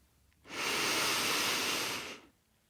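A single slow, deep inhale during a progressive muscle relaxation meditation, a soft, steady airy hiss lasting under two seconds, close and alone with no talking.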